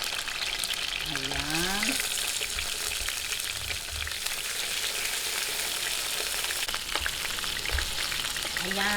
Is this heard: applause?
no